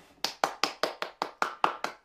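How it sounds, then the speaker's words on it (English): A small group claps together at the end of a toddler storytime, about nine sharp, evenly spaced claps in a steady rhythm, close and alone with no talking. "let's clap for that book"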